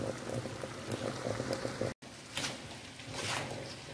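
Fruit pickle (acar buah) cooking in a pot while sugar melts, with soft bubbling and wet stirring sounds, faint and steady, broken by a brief silent gap midway.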